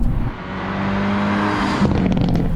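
A Hyundai Elantra N engine rumbles with a deep, steady exhaust burble up close, burble tune set to high, holding a low droning tone with a slight rise near the end.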